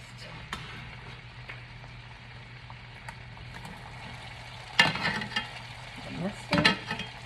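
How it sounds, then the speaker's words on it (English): Cooked shrimp scampi pasta is tipped from the pot into a hot frying pan, giving a low steady sizzle that swells into two louder bursts of crackling and stirring. "I literally am going to take it right from the pot into the pan, into the frying pan."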